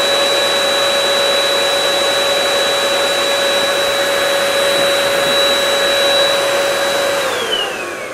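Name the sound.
Earlex paint sprayer turbine running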